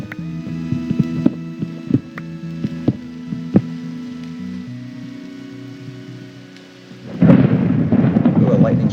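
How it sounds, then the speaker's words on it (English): Thunder from a lightning strike in the video game Minecraft erupts suddenly as a loud, close crackling rumble, following a stretch of quiet game music with sparse plucked notes. "there's a lightning strike"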